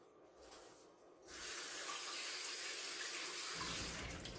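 Water runs steadily from a tap for rinsing sticky hands, starting faint and swelling into a loud, continuous hiss that holds for a few seconds before easing, with no talk.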